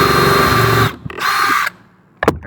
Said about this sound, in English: and you just drill the nail through like this